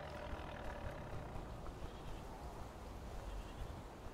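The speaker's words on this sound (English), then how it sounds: "There are goats as well, by the way. You can hear them." Goats bleat faintly in the distance within the video game Survival: Fountain of Youth, thin calls rising over a steady ambient wash.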